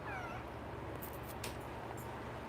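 A cat gives a faint, brief meow at the start, half buried in a steady hiss of background noise that continues throughout.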